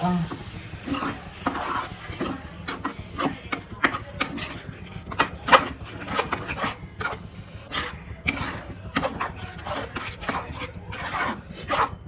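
Gongura leaves being mixed by hand with tamarind juice, turmeric and salt, a steady run of close, wet rubbing and scraping strokes that repeat irregularly for the whole stretch with no talk over them.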